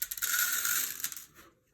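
Small glass tubes are dumped out of a Sub-Zero refrigerator air filter cartridge housing, making a brief, bright clattering rattle of many little pieces tumbling together, close up, that fades out after about a second.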